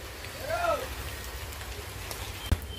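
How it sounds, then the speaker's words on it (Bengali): Sudden rain falls outdoors as a steady, even hiss of drops on surfaces, with a brief voice early on and a faint knock near the end. "গাইজ হঠাৎ করে বৃষ্টি শুরু হয়ে গেছে"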